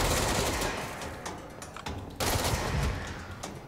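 Loud, dense gunfire in the video game Control's AWE expansion, a continuous close barrage of shots with a brief dip in the middle before the firing surges again, no voices.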